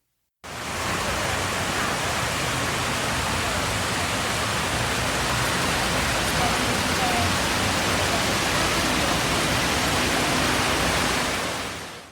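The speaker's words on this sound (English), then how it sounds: "a cascade of water falls into this abyss" Water cascades steadily into the deep pool at the 9/11 memorial in New York, a loud, continuous, even roar of falling water that fills the whole stretch without a break.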